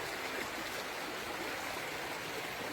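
Running water flows over someone's feet in a steady, close, continuous rush that is hissing and unbroken, with no voices present.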